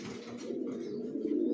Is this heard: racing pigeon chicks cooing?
yes